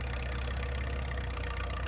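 A 1922 McCormick Deering engine runs steadily at a farm show, powering a hay press baler, with a continuous low chugging drone and no talk.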